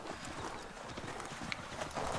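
Horse hooves clip-clop in the Assassin's Creed Valhalla video game, a faint, steady trotting rhythm set within a soft, continuous background of game ambience.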